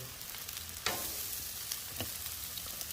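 Shrimp sizzling steadily in marinade juices on a Blackstone griddle, a constant loud frying hiss with a few sharp crackles and spatula scrapes as the pieces are moved around.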